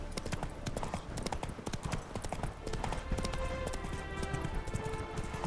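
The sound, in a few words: horse running in video game The Witcher 3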